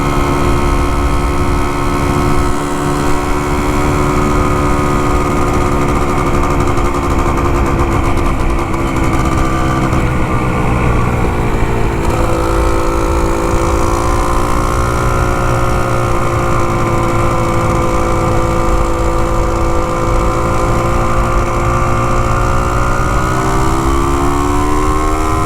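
The two-stroke engine of a vintage Can-Am 250 TNT motorcycle drones loud and close throughout a test ride on new pavement, its pitch rising and falling gently with throttle changes.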